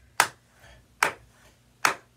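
Three crisp hand claps sound close and clear at a steady, even pace, each a sharp slap with a quick decay, alone against near silence.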